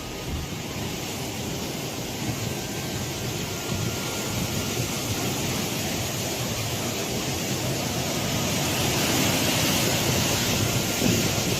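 Typhoon Matmo's outer bands in Hong Kong, with strong gusting wind and heavy rain in one steady, dense roar that holds throughout and swells slightly louder toward the end.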